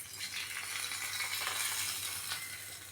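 Hot tempering tipped into a bowl of churned buttermilk, giving a soft crackling sizzle with light rattling that holds steady for a few seconds, quiet and close, no voices.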